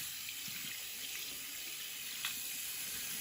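Running water pours from a sink tap as hands and wrists are wetted for handwashing before catheter care, a continuous soft hiss and splash with a faint brief splatter partway through.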